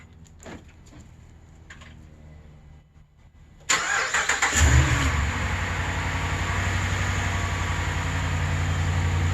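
Quiet rattling, then a Hemi 5.7 V8 pickup truck engine cranks and roars to life, settling into a deep, steady rumbling idle.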